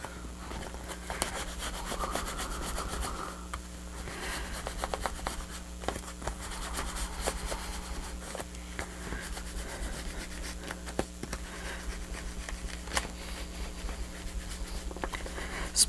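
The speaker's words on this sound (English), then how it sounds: "And if the squeegee doesn't quite work in there, get your bone folder." A bone folder rubs down folded book signatures along a spine during bookbinding, giving a quiet, continuous scraping and brushing with small taps and ticks, close up and without talk.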